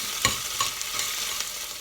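Peppers and tomatoes sizzle steadily in a hot pan while a utensil scrapes and taps a few times, stirring the contents up close.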